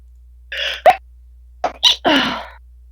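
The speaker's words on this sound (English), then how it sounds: "I sneezed." A squeaky, high-pitched sneeze from a woman during a tabletop D&D game session, heard as a couple of sharp, close bursts with quiet pauses between, followed by brief reactions from others nearby.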